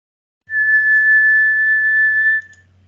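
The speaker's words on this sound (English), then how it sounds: "So try to whistle." A single clear whistled note, held steady for about two seconds, loud and close, then it stops.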